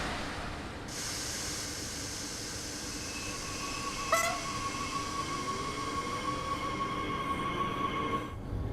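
A train departs in the Train Sim World 3 simulator: a steady rolling rumble with a sharp tonal chime or horn partway through, then rising motor whine as it pulls away, with no talking.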